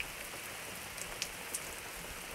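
Rain falls on a woodland campsite in the North Maine Woods with a parked Jeep nearby, a soft, even patter with a few sharper drips standing out, fairly quiet and without any voices.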